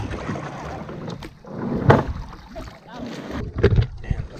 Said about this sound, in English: And the first paddle of the year has begun.